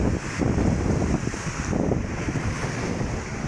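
Gusty monsoon wind over Manila Bay blasts the microphone in uneven surges, with waves churning beneath, loud and constant throughout.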